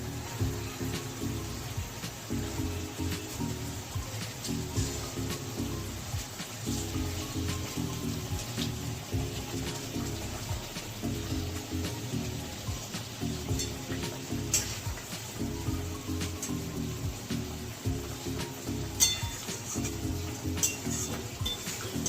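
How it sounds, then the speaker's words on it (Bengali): Pieces of brinjal are slid into boiling water in a pot for a brinjal recipe. A steady bubbling, sizzling wash carries on throughout with faint clinks, all fairly quiet and without talk. "এবারে জল ফুটে গেছে, এবার বেগুনগুলো আস্তে করে ছেড়ে দেবো।"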